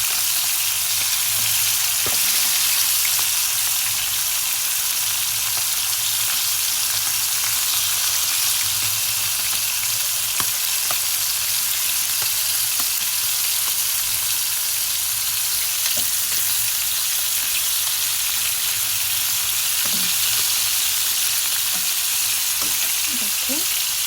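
Fish sizzles in hot oil in a pan during home cooking for a fish curry, a steady bright crackle and hiss filling the whole stretch, with occasional soft scrapes and clinks as the pieces are turned.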